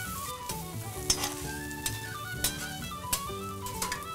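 Food browns in a pan over medium heat, a steady close sizzle with occasional clicks and scrapes of stirring, and no voices.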